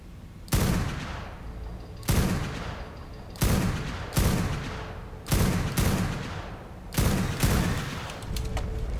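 Sniper rifle shots ring out in a video game cave full of bats: about eight loud, sharp reports, each with a decaying echo, spaced unevenly, some in quick pairs, with no talking.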